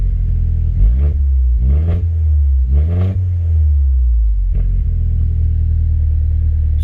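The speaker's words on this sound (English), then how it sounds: "there is no shielding for the exhaust, so it is very loud in here" Loud, raspy exhaust of a modified 2011 Mini Cooper S with decat downpipe, heard from inside the cabin with rear seat delete, revving up in three rising pulses, then settling into a deep droning rumble.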